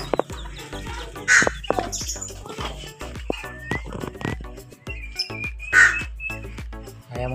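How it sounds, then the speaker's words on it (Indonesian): Bantam chickens cluck and crow in short bursts, close by, with other birds chirping in the background of a busy outdoor bird market. "Ayam kate."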